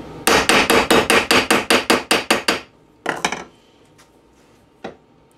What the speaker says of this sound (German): Ich gehe jetzt noch mal mit dem Hammer ein bisschen nach.